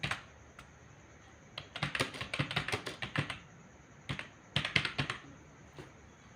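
Fast keystrokes on a computer keyboard while HTML code is entered, clacking in quick bursts with short pauses and a second flurry near the end, close and clear with no talking.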